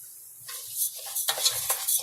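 Long grain rice stirred in a pot for Spanish rice, a short run of close scraping and clinking spoon strokes against the metal, growing busier toward the end with no voices.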